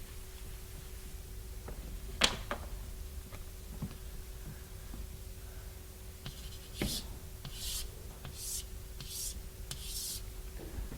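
Chalk or marker on a board makes faint, scattered scratches and taps while a picture is drawn, with a run of quick squeaky strokes near the end in a quiet lecture room.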